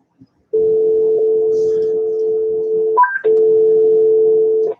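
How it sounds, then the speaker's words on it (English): A landline telephone dial tone hums as a loud, steady electronic tone, broken once by a brief pair of higher beeps before resuming until the end. "Yeah, dial tone's working."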